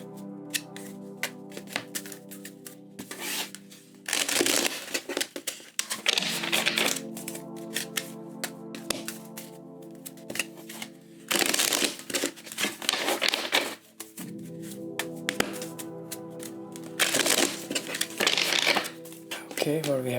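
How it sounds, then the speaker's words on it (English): Tarot cards shuffled by hand during a love reading, three rapid papery riffling bursts spaced across the stretch, close and fairly loud, with a steady tonal background beneath. "we're going to go ahead and do 3 shuffles to get into your energies"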